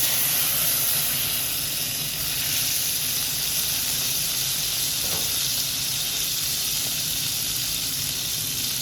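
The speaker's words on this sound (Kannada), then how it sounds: "ಈಗ 2 ಟೇಬಲ್ ಸ್ಪೂನಷ್ಟು ನಾನು ಬಟರ್ ಹಾಕ್ತಾಯಿದ್ದೇನೆ." Two tablespoons of butter sizzle steadily in a hot pan, a loud continuous hiss with a faint crackle, heard alone without talk.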